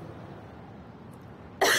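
In an indoor drama scene, a single harsh cough bursts out suddenly at the very end after a quiet, faintly humming room, loud and close.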